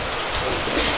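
Rain falls during an outdoor Catholic Mass at a ranch, a brief, dense, even wash of drops heard up close and fairly loud, with no voices over it.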